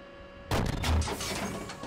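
A tank cannon firing a sabot round in the Steel Beasts tank simulator, a sudden loud blast breaking a quiet hum, followed by a rumbling, mechanical decay.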